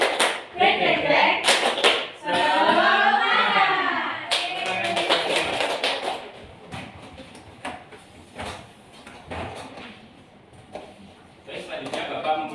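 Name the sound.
class rhythmic clapping chant, tepuk semangat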